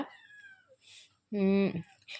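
A young house kitten gives one clear, short meow near the end, fairly faint, after a quiet stretch with a few softer tonal sounds.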